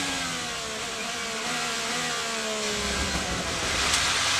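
IndyCar race car engine at a 2024 open test session at Thermal, a loud, close, high-pitched screaming drone with shifting engine tones as the car decelerates and picks up again.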